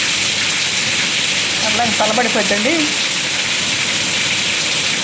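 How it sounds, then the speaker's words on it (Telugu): Heavy rain pours down with gusting wind, a dense, loud, continuous hiss throughout, with a short spoken phrase partway through. "ఫుల్గా పడుతున్నాడు వాన"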